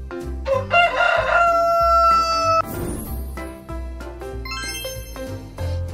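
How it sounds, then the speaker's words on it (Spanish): A rooster crows once, loud and close, in a long drawn-out call over a steady rhythmic music backing that continues after the crow ends. "rooster"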